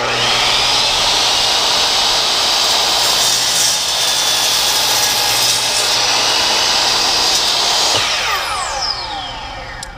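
A DeWALT DW715 12-inch single-bevel miter saw slowly cutting through wood, a loud, steady whining roar with blade noise that holds for about eight seconds, then the motor winds down and fades.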